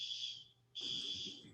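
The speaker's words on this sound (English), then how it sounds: "They're testing the fire alarms." A hospital fire alarm under test sounds as a steady, piercing electronic tone that briefly cuts out and then resumes, fairly faint in a room with a voice speaking nearby.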